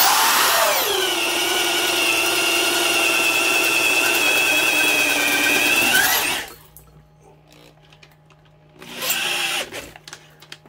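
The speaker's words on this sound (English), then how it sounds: "these are a wrist twister 3/8 inch drill" A DeWalt 3/8-inch high-power carpenter's drill runs at a loud steady whine for about six seconds, then stops, followed by a short second burst near the end.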